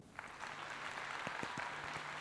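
Steady applause under a faint low hum, a run of claps spread evenly through the short span at moderate, slightly distant level, with no voices.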